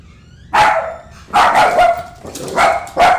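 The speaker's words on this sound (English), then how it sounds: "Suddenly the kid transforms into a dog." A dog barks four times, loud and close, each bark sharp and spaced about a second apart, with no other sound around it.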